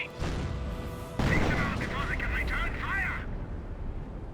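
A Wehrmacht sniper in Company of Heroes fires a close-range counter-sniping shot, a sharp crack amid battle noise and distant booms, with a commentator talking over much of it.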